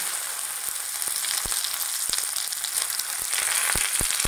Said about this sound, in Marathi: तर आता आपण फोडणीला टाकूया भेंडी